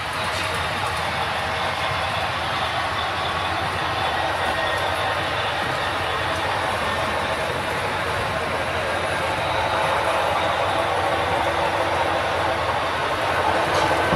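A model railroad GP9 diesel locomotive runs along the layout with a steady, unbroken mechanical hum and faint rail rattle, even in level from start to finish.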